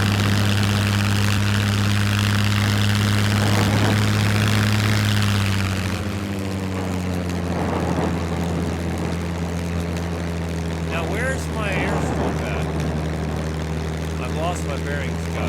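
Propeller airplane droning steadily in the survival game SCUM, a loud close engine hum whose pitch shifts and drops partway through as the plane descends, with a voice talking over it.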